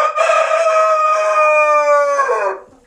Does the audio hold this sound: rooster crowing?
yes